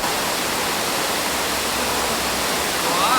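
A mountain valley stream at a Jirisan campsite rushes as a steady, broad wash of flowing water, loud and constant throughout, with no voices.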